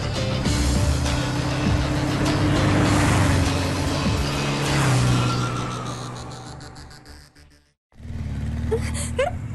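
A car engine drones steadily at close range, with the sound swelling and then fading before cutting out to near silence and starting again.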